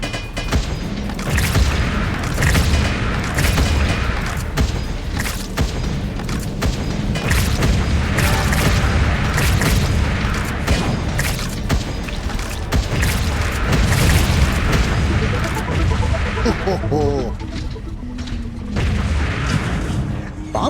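Bomb thrower explosions in the game Wall World, continuous loud booms and rumbling blasts layered with mechanical clanking and creaks, dense and unbroken throughout, a voice talking faintly underneath.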